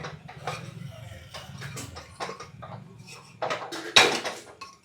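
A spice mixture stirred in a pan, with a run of light metallic scrapes and taps in an uneven rhythm, close by, finishing with a sharper clank against the pan.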